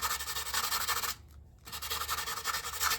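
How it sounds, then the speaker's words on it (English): Sandpaper rubs back and forth over a clamp surface in a continuous rasping scrub, pausing briefly for a moment before the close, loud sanding resumes. "I'm just going to sand this flat basically"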